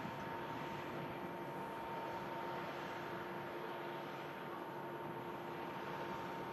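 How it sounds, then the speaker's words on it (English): A Pegasus Airbus A321neo jet at Manchester Airport, its engines making a faint, steady distant roar with an even hiss and no distinct peaks. "Pegasus A321 Neo just entering shot out to Istanbul"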